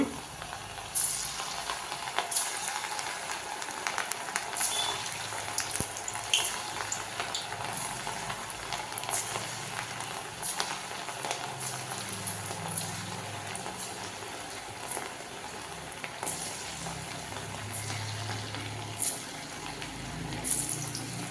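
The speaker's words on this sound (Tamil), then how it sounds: "இப்போ வந்து நம்ம எண்ணெயில் பொரிச்சிக்கலாம்" Potato and semolina (rava) snacks frying in hot oil give a steady crackling sizzle with bubbling pops, continuous throughout at moderate loudness, with no talking.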